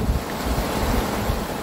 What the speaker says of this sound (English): That wind's drying me out. It's really cold, too.